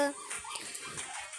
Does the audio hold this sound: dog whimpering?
yes